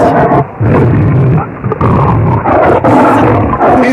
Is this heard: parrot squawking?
no